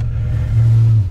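A BMW M5 engine accelerating hard, a steady low rumbling drone that swells louder in the second half before easing off, close and continuous with no talk.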